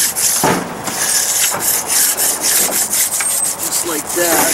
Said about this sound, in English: Using our edger, we'll keep using our edger here.